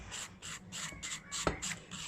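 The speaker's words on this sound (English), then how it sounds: "So now I'm going to switch over to my 180 grit file." A 180 grit nail file rasps across polygel nails in quick, regular back-and-forth strokes, about eight soft scratchy passes close up with a brief tap near the middle.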